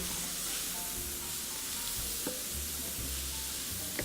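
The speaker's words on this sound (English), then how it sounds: "Stir this up." Meat sizzles steadily in a hot pan for pumpkin pasta while being stirred, with occasional scraping clicks against the pan under a continuous loud frying hiss.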